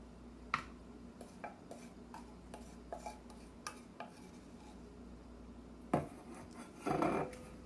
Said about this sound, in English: Just gently mash in your butter into your container.